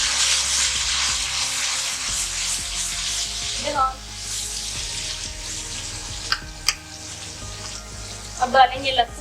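Onions fry in a pan with turmeric added for black gram daal mash, giving a loud continuous sizzle close by, with a few clinks and stirring sounds near the end.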